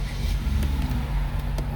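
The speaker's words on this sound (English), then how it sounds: "I'm gonna leave this car running" A 2012 BMW X5 E70 with a fuel pump control fault idles steadily nearby, a constant low engine rumble with no revving, heard alone without talk.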